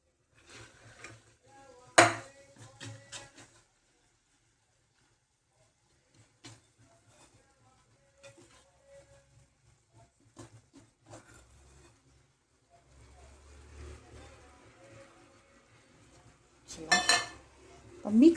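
Cluster beans (guar) tipped into a pan and stirred, giving scattered metallic scrapes and clinks of a spoon against the pan, with two sharper clatters and quiet gaps between.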